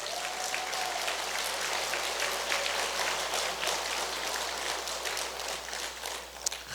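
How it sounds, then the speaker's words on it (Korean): A church congregation at a Pentecost Holy Spirit retreat claps together, a dense, even wash of many hands that carries on steadily with no speech over it. "박수 한번 쳐보세요."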